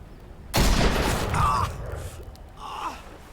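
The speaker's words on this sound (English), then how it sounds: "good shot, dude, with a shotgun at that range" A shotgun blast booms from The Walking Dead: The Final Season video game, one loud close shot with a sharp onset that rings out, followed by fainter tonal game sounds and short vocal gasps.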